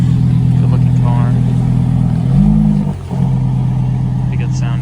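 A Lamborghini Huracán Tecnica rolls in at a rainy cars-and-coffee meet, its engine a steady, close, low droning hum that swells briefly and then dips, with voices talking over it.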